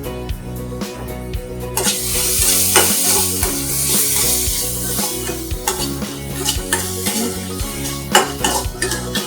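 Curry leaves, green chilli and tomato sizzle loudly in a hot pan, stirred with repeated metal scrapes and clinks of a spoon against the pan, close and continuous.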